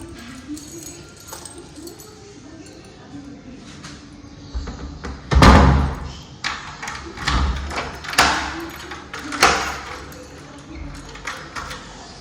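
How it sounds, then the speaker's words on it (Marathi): Close knocks and thuds of a house door handled and shut, followed by clicks and a few sharp bangs as it is locked, with brief jingling. "दरवाजा लॉक करतो"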